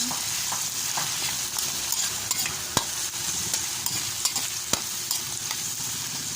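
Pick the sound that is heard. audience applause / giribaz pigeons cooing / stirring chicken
stirring chicken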